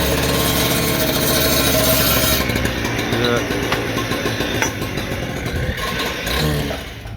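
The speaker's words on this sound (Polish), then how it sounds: "tak kolega tnie taką piłą wszystko na wymiar, ładnie, dokładnie" A power saw cuts paving stones on a paving job, giving a loud, continuous grinding whine with rough rasping texture that eases slightly toward the end, with muffled talk partly underneath.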